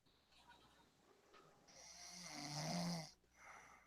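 Snoring, a low rasping breath that swells into a long, loud snore, followed by a softer one, close by with no talking.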